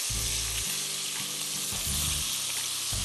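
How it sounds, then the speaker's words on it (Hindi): Chicken thigh fillets seasoned with salt and black pepper sear in hot oil in a pan, giving a steady, loud, close sizzle and crackle throughout with a few low stirring bumps. "उसको आपने दोनों तरफ से सियर करना है"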